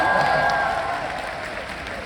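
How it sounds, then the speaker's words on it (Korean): Dense audience applause fills a hall at an open talk for a film's premiere at the Busan International Film Festival, Busan Cinema Center, loud at first and easing off slightly over about two seconds. "여러분 박수 한번 주세요."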